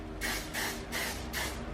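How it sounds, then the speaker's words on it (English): Bed Head thickening spray is misted onto hair in four short, evenly spaced hissing bursts, close and fairly quiet. "I'm gonna take this thickening spray"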